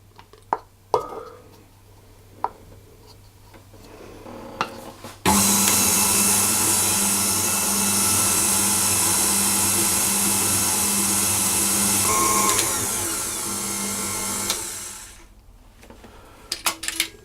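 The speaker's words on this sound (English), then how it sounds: "so that's the buttercream nicely mixed" An electric mixer whirs steadily while beating passion fruit buttercream, a loud continuous motor drone lasting about ten seconds, preceded and followed by quieter clatter and knocks.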